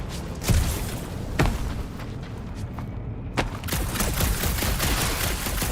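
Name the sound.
gunfire from the video game Guardians of the Galaxy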